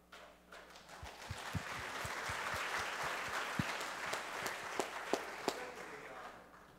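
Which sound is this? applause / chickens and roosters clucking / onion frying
applause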